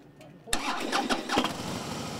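A motorcycle engine cranks and fires up after a short quiet lead-in, then settles into a rough, throbbing idle at close range while a person talks over it.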